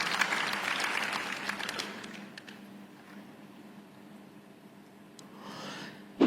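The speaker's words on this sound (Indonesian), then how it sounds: "kita tepuk tangan yang paling meriah bagi Yesus Kristus Tuhan kita" Church congregation applauding for Jesus Christ during a sermon, with a burst of fairly distant clapping that tapers off into quiet room tone before a brief rise at the end.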